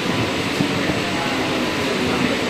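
Chennai's first AC local EMU train runs along the Beach to Chengalpattu line, a continuous rumbling roll with air-conditioning hum heard from inside the carriage, steady and fairly loud.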